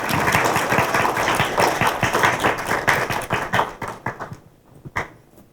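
A school audience applauds sixth-grade project participants, steady, dense clapping from many hands that thins out toward the end, leaving a few scattered claps.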